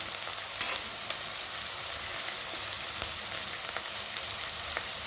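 Vegetables and potatoes frying in a pan, giving a steady, close crackling sizzle with brief spatters and stirring scrapes throughout, no voices.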